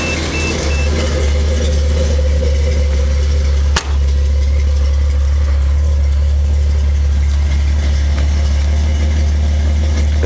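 A 1984 Toyota Supra with the 6M-GE engine and its catalytic converter removed idles through its exhaust, a loud steady low rumble with a deep droning hum, close and continuous, with one brief knock partway through.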